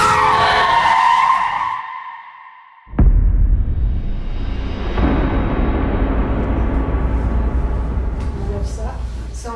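Car skidding as the driver loses control, a loud tyre screech fading out, then a sudden heavy burst of rumbling noise that carries on loudly.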